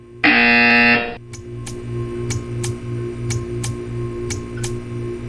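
A loud electronic buzzer in the video game Portal 2 sounds once for about a second, followed by steady ticking and a low mechanical hum with faint periodic clicks.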